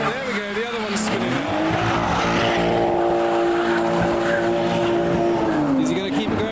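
Toyota GT86 at a car meet doing a burnout with rear wheels spinning, a loud sustained engine rev mixed with squealing tires, heard nearby with people talking over it.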